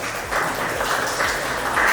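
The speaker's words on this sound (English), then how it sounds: "A round of applause for DB." An audience at a panel event on smart cities in the Philippines applauds, a brief burst of clapping that grows louder toward the end.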